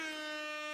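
An air horn sound effect blares as one loud, sustained, brassy blast with a bright harmonic tone and no voices.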